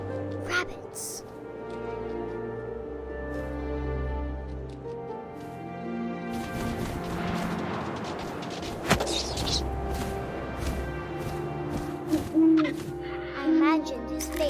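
Owl hoots in the video game What Remains of Edith Finch, a few soft, low calls rising over a steady bed of wind and game music, with short sharper accents in the second half.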